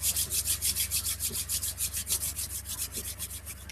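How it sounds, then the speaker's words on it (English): Two hands rub briskly together, a close, dry swishing friction in a steady back-and-forth rhythm of about seven strokes per second, with no voices over it. "So we rub our hands together"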